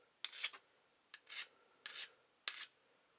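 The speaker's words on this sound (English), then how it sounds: "this sharpening stone seems to be marking up the knife more than sharpening" Repeated rasping strokes of a sharpening stone across a knife blade from an Ozark Trail camping tool set, four short scraping passes with pauses between, close and dry, with no talking.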